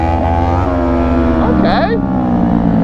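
A Kawasaki Ninja 400 motorcycle engine drones steadily and close by, holding a constant running tone under people talking throughout.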